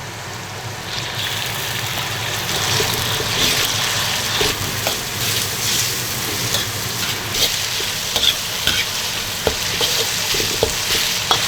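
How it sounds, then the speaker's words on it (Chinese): Pork fat and lean pork stir-fried in a wok with ginger, garlic and fermented black beans, a loud close sizzle broken by scraping strokes of the spatula, with no talking. "这个时候我们下姜蒜、豆豉， 炒香后把瘦肉倒进去。"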